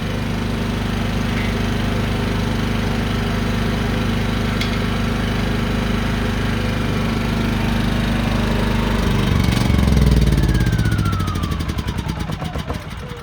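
Champion propane generator running steadily at a loud, even drone, then sputtering and winding down near the end as the propane in the line runs out and it shuts itself off.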